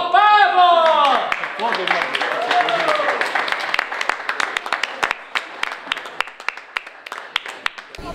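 Audience applause for the first-prize winner of a costume contest on a local television program, loud clapping that follows a presenter's voice and thins into scattered claps.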